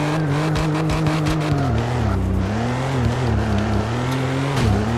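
A Nissan GT-R50's engine revs hard in the CarX Drift Racing video game, its loud, sustained whine climbing and dipping as the throttle is worked, with a brief tire squeal mixed in.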